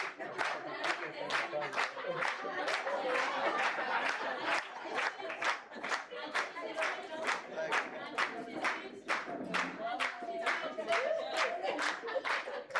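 An audience at an inter-religious peacebuilding council gathering in Kenya claps rhythmically in a sustained round of even beats, with voices murmuring underneath.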